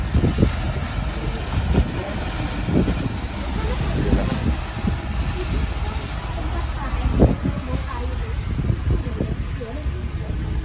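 Sea waves slosh and wind buffets the microphone aboard the Pelni passenger ship KM Kelimutu on the route from Sampit, a loud continuous rush with splashing surges and voices faintly underneath.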